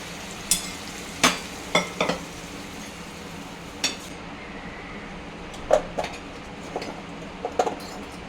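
Chickpeas tipped into a pan of frying onions, with a steady sizzle under sharp clinks and scrapes of a spoon against the pan, close and moderately loud, with no talking.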